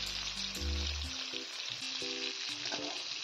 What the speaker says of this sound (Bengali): এবার মাছগুলোকে ভালো করে লাল করে আমি ভেজে নিয়ে ফিরে আসছি